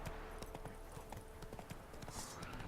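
Roach, Geralt's horse in The Witcher 3, clip-clops along with steady, evenly spaced hoof strikes, close and clear over a soft ambient bed, with no voices.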